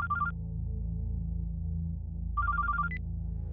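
Phone ringtone for an incoming call, short bursts of bright electronic trilling tones heard twice over a low hum of background music.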